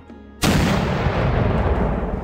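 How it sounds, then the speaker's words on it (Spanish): Artillery cannon fires in battle, one sudden loud boom followed by a long rolling roar and rumble that stays heavy and close without any voices. "respondiendo estos igual con un potente disparo de cañón"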